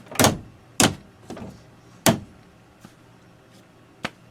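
A wooden cabinet door closing onto a magnetic catch, a series of sharp clicks and soft thumps repeated about six times with short pauses, close and loud in a quiet room, the later ones fainter.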